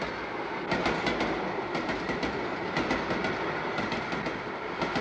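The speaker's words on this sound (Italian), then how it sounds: "il treno è sempre il treno" A long train of wagons rolls past close by, its wheels beating a steady clickety-clack with repeated sharp rail clunks over a continuous rumbling roar, and no voices.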